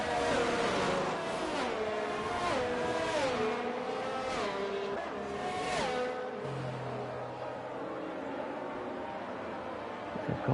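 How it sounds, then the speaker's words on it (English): A Formula 1 car in an F1 racing game rounds the Parabolica corner at Monza, its engine note climbing and dropping through rapid gear changes, loud and continuous, with a second low drone joining near the end. "Car making its way around Parabolica."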